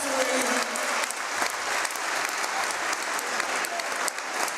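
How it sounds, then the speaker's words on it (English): Crowd applause in a gym after a layup at a varsity boys basketball game, Miami Trace vs McClain: a dense, continuous wash of clapping and crowd noise, steady and fairly loud for the whole stretch. "And he gets a round of applause."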